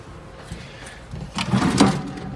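A hotel room nightstand drawer slides and bumps shut close by, a short scraping rattle with a dull knock, after a quiet room hush.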